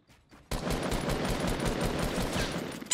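Fortnite gunshots erupt after a short quiet pause, a rapid run of loud, close automatic fire that continues almost without letup.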